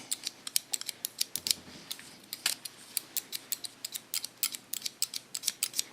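Scissors snipping through a man's hair during a haircut, a quick, steady run of crisp close cuts repeating at a brisk rhythm.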